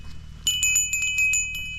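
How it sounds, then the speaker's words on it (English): A small handheld cowbell, carried during a Harley-Davidson Road King motorcycle tour in the Austrian Alps, is shaken in a quick series of bright metallic clanks over a low steady hum. "I've got my little cowbell."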